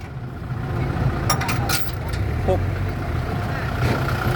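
A tractor engine idles with a steady low rumble throughout, with scattered clanks and brief voices in the background.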